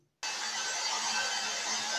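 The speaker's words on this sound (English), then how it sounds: "you will see how my darling blow my hair using my blower" A hair dryer blows a person's hair in a home parlor. It switches on abruptly and then holds a loud, steady, close rushing whoosh, with no talking.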